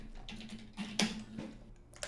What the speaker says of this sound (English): smash that keyboard